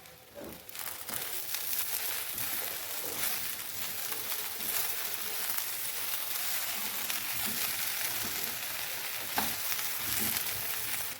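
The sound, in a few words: okra mixed with spices in a frying pan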